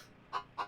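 Two short clucks from a cyborg chicken with a metal-shelled head and cybernetic implants in Wasteland 3, spaced about a quarter second apart, fairly quiet and alone over faint background.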